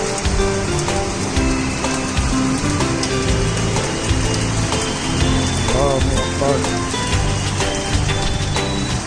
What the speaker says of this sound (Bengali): প্রচুর বৃষ্টি এবং সেই সাথে বাতাস